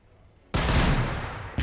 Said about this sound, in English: Let's also launch your grenades at them.